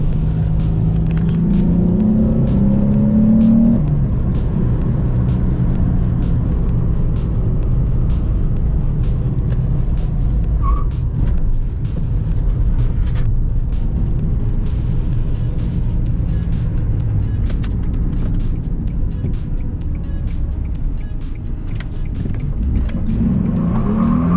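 A car with a newly fitted clutch drives steadily, its engine rumbling loud and close throughout, rising in revs as it pulls away, with broadband road and tyre noise.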